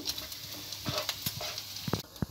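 Bacon sizzles and crackles in a frying pan, with a soft hiss and scattered sharp pops close by.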